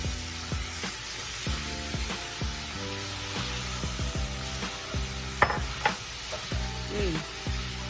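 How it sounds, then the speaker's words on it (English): Red beans being stirred around in a cooking pot for red beans and rice, with repeated scraping, knocking strokes and a steady sizzle running underneath, close and fairly loud throughout. "Get that stirred around. And you're going to add back in the star of the show these beautiful red beans."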